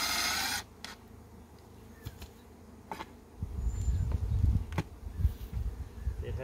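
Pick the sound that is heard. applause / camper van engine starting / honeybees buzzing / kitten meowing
honeybees buzzing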